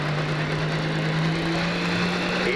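Pulling tractor in a 12,000 lb pro class at a tractor pull in Taylorville, Illinois, its engine holding a loud, steady drone with a slowly rising pitch as the revs climb, continuous for the whole stretch.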